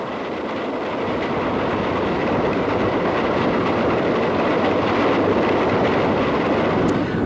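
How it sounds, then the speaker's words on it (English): A high-speed train from Newcastle roars past at close range while arriving at a station, a loud continuous rumble and rush with faint rhythmic clatter, building slightly and holding steady throughout. "It's a high-speed train set off from Newcastle"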